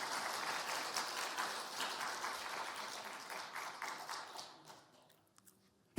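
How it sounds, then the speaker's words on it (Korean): A church congregation at a Sunday service applauds, steady crowd clapping that fades out over about five seconds, then ends with a sudden sharp knock. "화장실을 쓰는 모든 분들 박수 한번 하세요."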